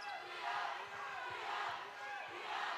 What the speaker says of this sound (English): And this crowd is really getting into the game.